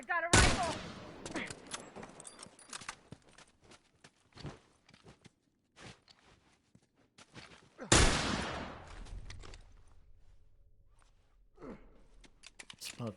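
Rifle fire in The Last of Us competitive multiplayer esports match, with two sharp loud bursts several seconds apart amid scattered footsteps and softer gunfire, while a commentator talks over the action.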